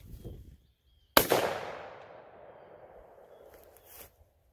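A gun fitted with a Short Lane adapter is fired over a chronograph, giving a single sharp, loud report followed by a long, fading echo tail and a faint click near the end.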